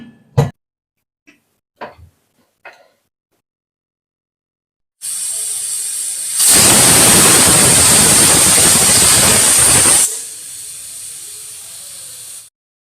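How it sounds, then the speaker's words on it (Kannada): A pressure cooker cooking kuska biryani lets out a single loud, sustained steam whistle with a piercing tone over roaring hiss, preceded by a few faint clicks and fading to a softer hiss. "ಈಗ 1 ವಿಷಲ್ ಆಗಿದೆ."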